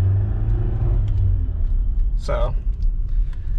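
A Nissan Versa that has no power and laggy throttle response is floored from a complete stop; its engine gives a steady low rumble and drone that never builds to a clear rev. A voice speaks briefly over it.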